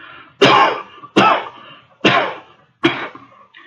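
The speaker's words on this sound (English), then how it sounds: "coughing heavily" Four heavy, harsh coughs come at regular intervals, each a loud close burst followed by a short pause.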